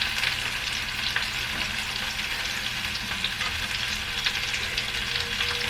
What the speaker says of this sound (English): I want the onions to sweat a little bit, although that's very sizzly sounding